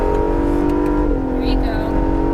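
Acura NSX engine pulling hard under full throttle, a steady loud drone with the pitch climbing slightly as it accelerates, a voice talking over the top.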